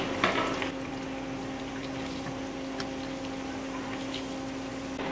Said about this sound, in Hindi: इसे 2 से 3 मिनट उतना ही फ्राई होने देंगे इसे।